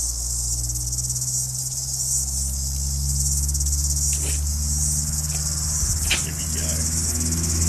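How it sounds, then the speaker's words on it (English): Cicadas buzz in a constant, loud, high-pitched drone outdoors, steady throughout with a low rumble underneath, while a person speaks briefly and there are a few faint knocks. "cicadas are pretty fun as a one-off."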